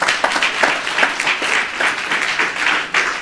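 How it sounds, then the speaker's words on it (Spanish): A church congregation gives a loud, lively round of hand clapping for a sister, a dense continuous patter with no talking over it. "Un aplauso para nuestra hermana."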